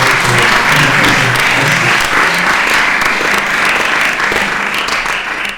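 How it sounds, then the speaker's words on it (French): Audience at a French science conference applauding, a dense, steady wash of clapping that stays loud throughout and tapers slightly at the end. "Elisabeth Rondier, on vous applaudit bien fort."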